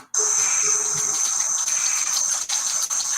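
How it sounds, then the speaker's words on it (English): An animal walks through shallow water in a Florida wildlife setting, its feet splashing and sloshing in a steady, close, moderately loud wash of sound with no voices. "I just like the way it sounds walking through the water, the way his feet are splashing."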